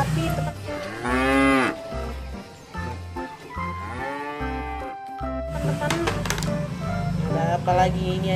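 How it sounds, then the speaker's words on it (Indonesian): A cow in the video game Jurassic World Evolution 2 lets out two long, low moos in succession over a steady thumping rhythm, followed by clattering sounds. "Wah, ini ada sapi teman-teman."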